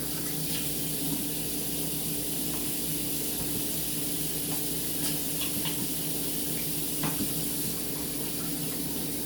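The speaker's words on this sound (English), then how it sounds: "you can watch that simmer for a minute" Water running from a kitchen tap while food simmers on the stove, a steady close hiss with faint clinks, no voices.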